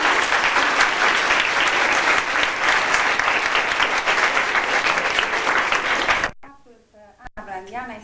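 An audience at a gathering honouring the poet Ana Blandiana applauds in loud, sustained clapping for about six seconds, then it stops abruptly and a voice speaks.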